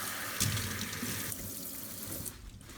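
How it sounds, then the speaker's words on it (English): Tap water runs into a sink while hands are washed beneath it, a close, steady splashing stream that briefly surges and then continues evenly for a few seconds. "we need to wash our hands first"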